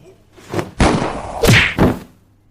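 A right hook thrown by Brad lands in a short scuffle, heard as a few close, heavy thuds and whacks in quick succession with a brief swish between them.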